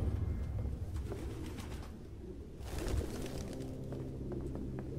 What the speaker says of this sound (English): God, there's so many birds!